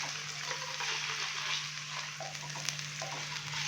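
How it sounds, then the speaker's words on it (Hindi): About 200 grams of small boneless chicken pieces fry in a pan with ginger garlic paste, giving a steady, close sizzle with faint stirring scrapes and no voices. "तो चिकन को अभी हम तकरीबन 4 से 5 मिनट के लिए फ्राई कर लेंगे, ताकि अदरक और लहसुन के पेस्ट के साथ चिकन की अच्छे से बुनाई हो जाए"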